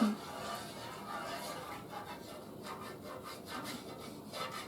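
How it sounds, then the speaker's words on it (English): Scraping at the seared edge of a pan cooking garlic butter chicken, a steady close rubbing and grating texture running continuously with small variations in intensity. "I'm just getting all the crusties off the edge of the pan where it gets seared"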